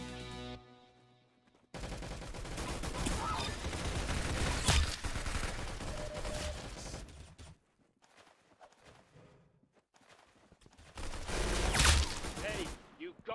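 Gunfire in the Roblox game Arsenal, dense rapid bursts of automatic shots in two clusters separated by quieter gaps, with a voice talking faintly beneath.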